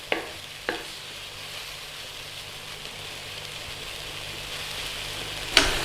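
Chinese scrambled eggs and tomatoes stir-fry in a pan as the liquid cooks off, with a steady loud sizzle broken by a few sharp scrapes and clanks of the utensil at the start and end.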